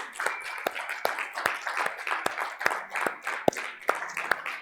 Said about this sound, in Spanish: Dale las palmas a Dios.